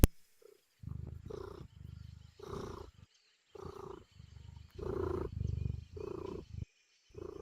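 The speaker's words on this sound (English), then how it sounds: "Oh, I hear the purring." A cat purrs loudly and close in repeated rhythmic rumbling bursts, each breath a gritty low vibration separated by brief pauses.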